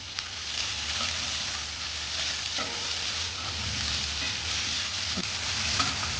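Onions frying in oil in a home kitchen while chicken is prepared, a steady close hiss of sizzling with occasional soft scrapes and stirring clicks, with no talking.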